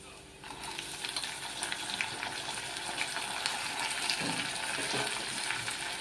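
Mutton pieces frying in hot oil with browned onions in a pan, giving a steady, fairly soft sizzle that runs throughout with occasional stirring scrapes.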